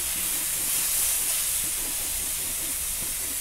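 Ridge gourd roasting in oil in a pan gives off a steady, loud broadband sizzle and hiss, continuous throughout with no voices.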